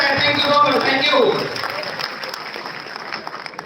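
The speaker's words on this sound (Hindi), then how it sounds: "सब लोग तालियां बजाएं, जोरदार सबका स्वागत हम मान रहे हैं" An audience at a One Nation One Election public gathering applauds warmly, a dense sustained round of clapping that starts loud and gradually tapers off.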